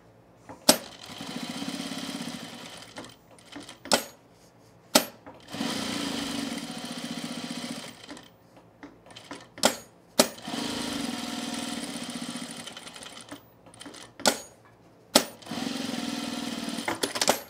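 A sewing machine topstitches men's cargo shorts, running in several short bursts of a second or two, each separated by pauses and sharp clicks or clacks.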